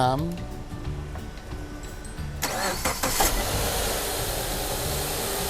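A car engine cranks briefly and catches with help from a 10000mAh 500A power bank jump starter, then settles into a steady idle while someone talks over it.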